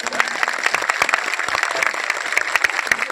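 A crowd at an election rally in Narmadapuram claps loudly and unevenly, with sharp individual hand claps standing out over a dense, continuous patter.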